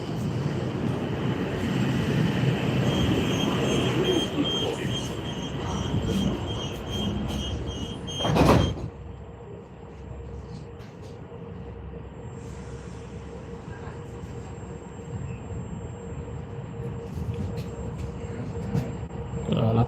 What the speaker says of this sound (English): pretty much going through the subway